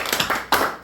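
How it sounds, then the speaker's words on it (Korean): A church congregation claps during a Sunday worship service, a short burst of scattered hand claps, moderately loud and with no talk over it. "박수 한번 해주세요"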